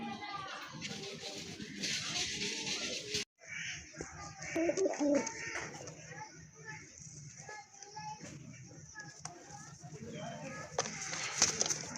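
Raj golla pigeons coo softly and repeatedly, heard close amid a busy outdoor background with children's voices and general chatter running throughout.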